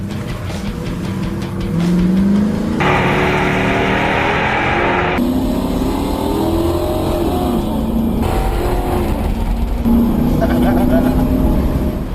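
Caprice and Crown Vic police cars drag racing: engines roar loudly and continuously up through the gears, with rising pitch sweeps at each shift, heard from close by inside one car.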